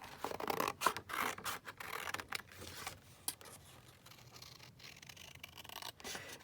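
Scissors cut through paper craft pieces for an envelope stack, a series of close, crisp snips and scratchy rustles, busier at first, then sparser and quieter.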